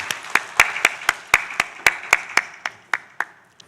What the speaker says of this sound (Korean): 영광의 박수 하나님께 올려드립니다.